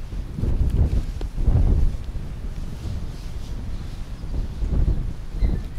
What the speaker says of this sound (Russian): Настолько сильный ветер